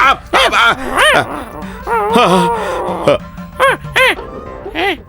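A man imitates a dog with a string of loud, close yelping barks and whines, a few spaced out and others bunched together.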